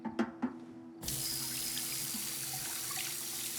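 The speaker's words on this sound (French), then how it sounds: "Je vais rincer ces verres vite fait." Water from a tap runs steadily while glasses are rinsed, after a few brief clinks of glass at the start, with a continuous close gush and no talking.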